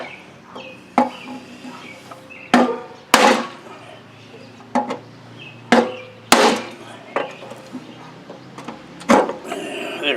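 Hard hammer blows strike a reluctant Briggs & Stratton engine being knocked loose, about a dozen sharp, loud impacts spaced irregularly with quiet gaps between them, close up.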